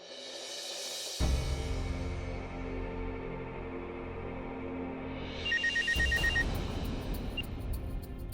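A telephone rings in a drama scene, its electronic ringing tones repeating over a soft musical backdrop with a swelling chime near the end, and no voices heard.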